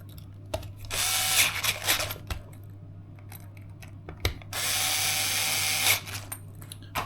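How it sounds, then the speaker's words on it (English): A power driver tightens screws on an M2C Racing forward motor mount for a Traxxas Sledge RC truck, with two sustained whirring bursts close to the microphone and small clicks and handling noises between them. No one speaks. "I'm going to tighten up now these screws again here."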